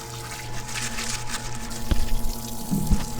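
Soapy water running and splashing as a motorcycle oil pump part from an XL/Buell is scrubbed clean of caked burnt oil, a steady low wash with a few louder splashes near the end.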